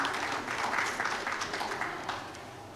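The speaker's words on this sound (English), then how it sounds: "a round of applause for him." Audience at a panel session on AI in Africa applauds a panel speaker, a moderate round of clapping that holds steady and tapers off softly after a couple of seconds.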